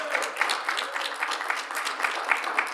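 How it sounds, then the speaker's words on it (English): An audience at a talk applauds a fireman, with steady, dense clapping that holds at an even level throughout. "Let's give the fireman a round of applause over there"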